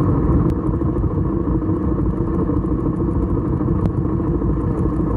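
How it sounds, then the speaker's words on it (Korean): Exhaust note of a BMW R1250GS Adventure motorcycle riding through autumn countryside, a steady, loud, muffled low engine drone with continuous rumble and occasional faint clicks, no talk. "왜 배기음이 이따위로 녹음되어 있는지 모르겠습니다"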